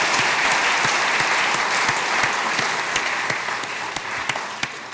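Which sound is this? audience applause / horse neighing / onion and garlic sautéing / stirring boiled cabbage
audience applause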